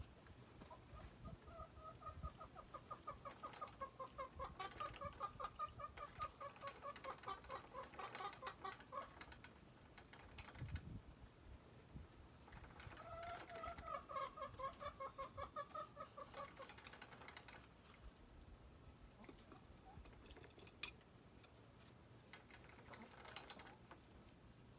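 Backyard flock of chickens clucking close by, with repeated drawn-out bursts of soft cackling and clucks rising and falling over about twenty-five seconds, fairly quiet and with no talk.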